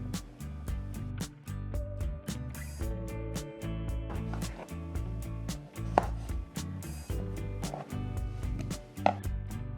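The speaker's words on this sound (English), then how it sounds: "now we have all of our potatoes cut over here" A knife chops potatoes into bite-sized pieces on a cutting board, a quick, steady series of sharp close knocks with brief pauses and soft background music beneath.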